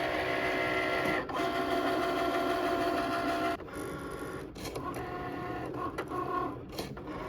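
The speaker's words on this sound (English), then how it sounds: "we press it to let it start cutting into our vinyl" A vinyl cutting machine slices heat transfer vinyl with a steady mechanical whir and stepping motor tones, then shifts to shorter, choppier movements in the second half, close by with no talk.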